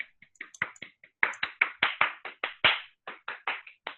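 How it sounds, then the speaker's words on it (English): A group on a video call claps hands together, giving a run of sharp, uneven claps that build from a few scattered taps into a steady burst of overlapping clapping for several seconds, with no talk. "Everybody clap your hands."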